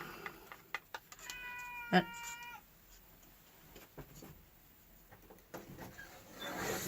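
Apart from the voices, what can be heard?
cat meowing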